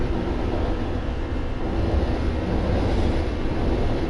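A noisy train passes in a PS4 video game, a continuous low rumbling roar that holds steady and fairly loud throughout with no speech over it.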